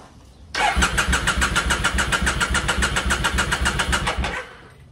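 A Triumph Thruxton 900 motorcycle after a solenoid replacement cranks on the starter, a loud, close, rhythmic whirring that runs steadily for about four seconds before stopping, with no clear catch.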